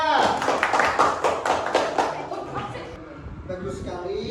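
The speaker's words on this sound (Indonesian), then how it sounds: "Kasih tepuk tangan yang meriah." A classroom of students claps for a student's correct answer in an Islamic jurisprudence lesson, with a burst of lively clapping fading after a few seconds while a teacher's voice carries over it.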